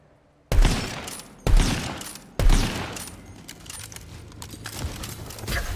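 Rapid gunfire in Tiny Tina's Wonderlands: three loud bursts land about a second apart, then a dense, steady stream of shots continues close up, with no talking over it.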